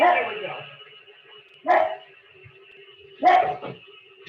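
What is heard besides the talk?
dog barking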